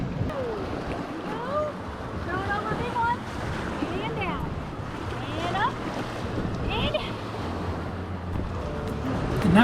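Rushing river rapids and big waves churn steadily throughout on the Moab Daily at 20,000 CFS, with wind buffeting the microphone and scattered excited voices shouting over the roar.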